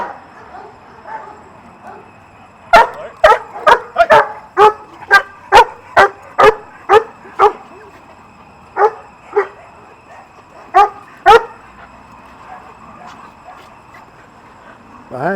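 A guard dog barks during bite training, a quick run of about a dozen sharp, loud barks close by, then a pause and a few more scattered barks.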